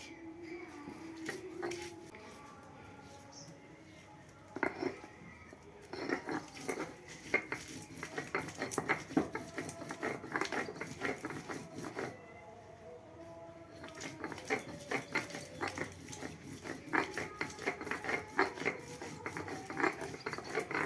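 Onion and garlic are ground into a fine paste with steady, rhythmic scraping and rasping strokes, close and fairly crisp, broken by a couple of short pauses.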